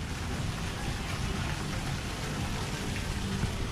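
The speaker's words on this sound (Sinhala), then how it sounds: "වැස්ස ඉන්ටර්වල් එකක් දෙන්නෙම නෑ අපිට මේ අහස" Steady rain falling at a hotel pool by the beach, a dense, even hiss of drops hitting water and hard surfaces, continuous and fairly loud throughout with no talking.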